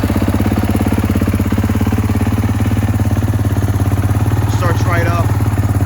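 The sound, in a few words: Kawasaki KX450 dirt bike engine starting and running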